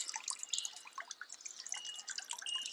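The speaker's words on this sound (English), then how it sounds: "get yourself into a state where you can get a more single drip point" Water dripping steadily through a pre-filter while being clarified, giving a busy patter of small drips and trickles throughout, fairly faint and with no voices.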